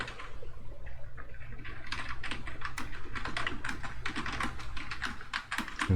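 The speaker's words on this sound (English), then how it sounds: "I'm training a different way of typing that uses more fingers" Steady rapid typing on a computer keyboard, many close, crisp key clicks in an uneven patter, fairly quiet and with no voices.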